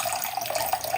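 Tap water runs steadily into a container while water is measured for sourdough bread dough, a close, continuous splashing stream with no talking.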